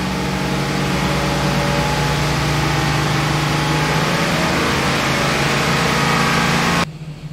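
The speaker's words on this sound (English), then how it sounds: "So let's increase the engine speed here." A Chevy Express van engine held at raised revs around 3000 RPM, a loud, steady close-up drone with a constant hum that stays level until it drops off abruptly near the end.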